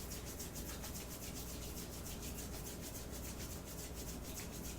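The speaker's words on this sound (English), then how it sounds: "we're going to rub the palms together to create friction" Palms of the hands rubbed briskly together to build friction, a steady dry swishing that runs continuously and close-up without pause or talk.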